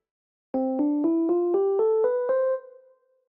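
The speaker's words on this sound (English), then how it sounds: "the most common are the major scale, which sounds like this" A major scale played upward as eight evenly spaced, clear plucked notes, each rising in pitch, with the final note ringing briefly before fading, heard alone without talk.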